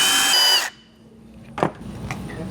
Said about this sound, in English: we're going to drill through